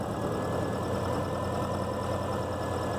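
Car engine idling roughly and shaking, a continuous low rumbling drone with a steady uneven pulse, close and loud without any voices.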